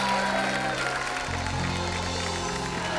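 A steady wash of audience applause greets actress Deepika Padukone of the film Gehraiyaan as she arrives on a stage, with sustained low music playing underneath throughout.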